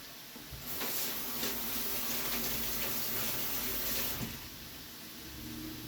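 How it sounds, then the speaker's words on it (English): Kitchen tap running steadily while hands are rinsed under it during home cooking, a loud continuous hiss and splash of water lasting several seconds, with no talking. "Rinse my hands."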